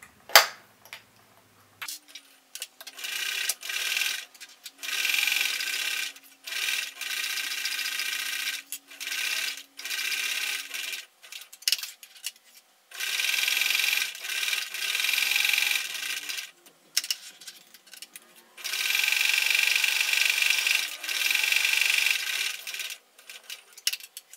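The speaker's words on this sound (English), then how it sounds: "So now I'm going to stitch 1/4 inch all the way around" A home sewing machine runs in repeated bursts, stitching a quarter-inch straight seam around a fabric face mask with filter pocket, each run a steady buzzing whir separated by short pauses and faint handling sounds.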